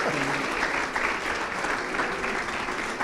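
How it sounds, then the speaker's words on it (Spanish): Audience applause after a medical talk, a dense, steady wash of many hands clapping at an even loudness for several seconds, with a brief voice near the start. "Un aplauso, por favor."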